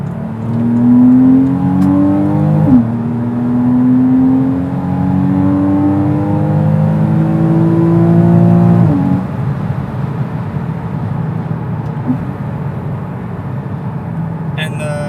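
A mid-engined Porsche Cayman 981 on coilovers, with side-mounted intakes, accelerates through several rising gear pulls heard from inside the cabin, each shift marked by a sharp drop, before settling into a steady cruise hum.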